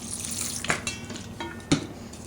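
Cooked spaghetti being stirred with orange liquid watercolor in a bowl, giving wet squelching swishes and two sharper clinks of a utensil against the dish.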